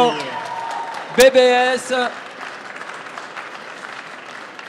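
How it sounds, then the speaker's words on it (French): Applause from a French barista championship audience for a finalist, continuous broadband clapping under loud talk and a burst of amplified voice from the stage. "On l'applaudit encore, s'il vous plaît."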